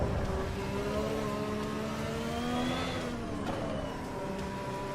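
A Volvo car engine in a driving simulator game hums steadily throughout, its pitch rising and falling with gentle revving, loud and continuous with no talk over it.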